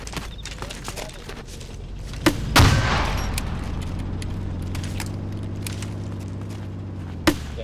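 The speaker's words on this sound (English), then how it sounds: "Someone shooting an AA cannon?" Sharp, heavy bangs of anti-aircraft cannon fire in Arma 2 punch through a low rumbling background, a couple of loud booming shots with a lingering roar after the first, spaced several seconds apart.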